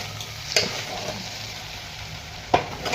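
Vegetables cook over a low gas flame in a covered pan, making a faint, steady sizzle with two short sharp clinks, likely from the lid or utensil.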